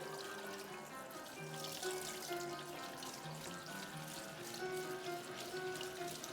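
Running tap water rinsing canned beans in a sink, a soft steady stream of splashing and trickling that continues evenly throughout, fairly quiet, with no one speaking.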